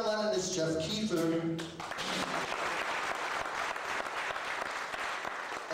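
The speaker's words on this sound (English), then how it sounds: "a round of applause for my good friends from Chicago here" Audience applause at a live concert by a tribute band at a library, loud dense clapping from a crowd that swells and carries on steadily after music fades out.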